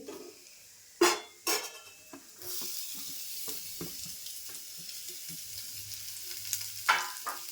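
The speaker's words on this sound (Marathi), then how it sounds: "कांदा पण असा मऊ होईपर्यंत परतून घेते" Onion sautéing in oil in a pan after garlic for a fenugreek-leaf dish, a steady sizzle with sharp clanks of a spoon against the pan near the start and end, and soft stirring scrapes throughout, no talking.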